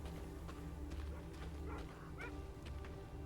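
Dog in Thronebreaker: The Witcher Tales video game, a few short faint yips and whimpers over a low ambient drone, quiet and somewhat distant, with no speech.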